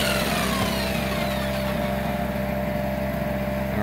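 A Harbor Freight generator engine labors steadily under roughly a 540-watt jigsaw load, a continuous loud droning hum with a faint high whine riding over it, unbroken for the whole stretch.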